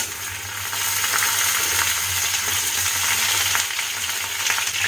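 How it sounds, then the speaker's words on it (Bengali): Potatoes frying lightly in a pan with ginger for a okra shukto, a loud, even, continuous sizzle close up with no talking. "আলুটা হালকা ভাজা হয়ে গেলে আমি দিয়ে দেবো ভিন্ডি"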